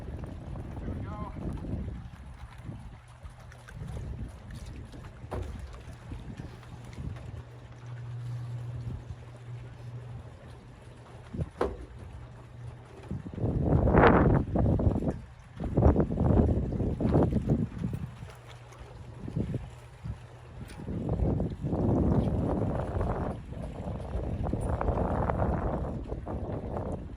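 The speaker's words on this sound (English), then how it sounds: "it's real windy out here." Strong wind buffets the microphone outdoors by the water during personal watercraft lift removal, a low roar that swells into heavy gusts mid-way and again near the end, with someone talking at times.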